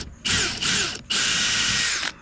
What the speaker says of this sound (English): All right, I'm gonna start drilling.